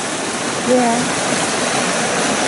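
Rio Majaceite river in Andalusia rushing loudly and steadily nearby, a broad constant watery roar, with a brief faint voice-like tone early on.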